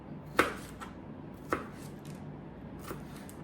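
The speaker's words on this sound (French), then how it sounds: "Puis là, on va venir couper les petits cubes." A knife chops food into small cubes with three sharp, separate strikes against a cutting board, spaced about a second apart, close and clear with no talking.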